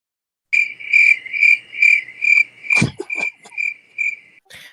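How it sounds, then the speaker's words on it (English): Crickets chirp in steady, evenly spaced trills close by, with a few sharper clicks and a brief rustle toward the end and no talking. "You hear those crickets?"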